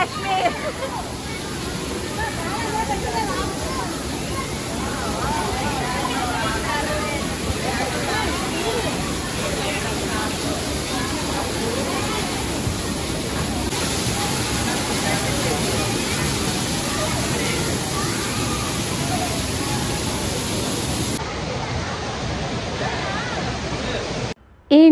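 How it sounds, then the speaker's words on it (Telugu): Artificial waterfalls at a Kashmir-themed expo on RK Beach give a continuous broad rushing roar, steady and even throughout, with crowd chatter and voices blended underneath. "ఏం క్రియేట్ చేశారు కదా వాటర్ ఫాల్స్,"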